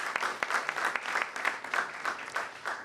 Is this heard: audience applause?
yes